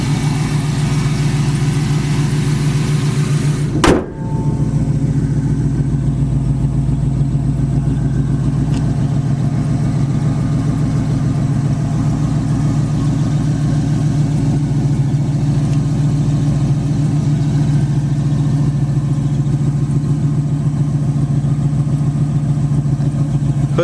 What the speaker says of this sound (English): Engine runs nice and quiet.